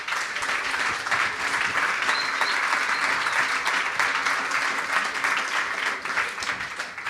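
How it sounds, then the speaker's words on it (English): An audience at a design and finance panel event gives the panelists a steady round of applause, dense continuous clapping at even loudness from start to finish. "Let's give them a round of applause."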